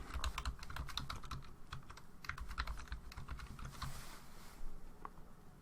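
Quick, steady clatter of keys on a computer keyboard as a new account password is entered, soft close-up taps in a continuous run with brief pauses and no voices.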